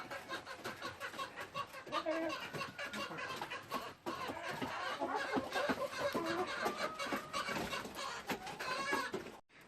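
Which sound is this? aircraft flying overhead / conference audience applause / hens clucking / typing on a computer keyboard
hens clucking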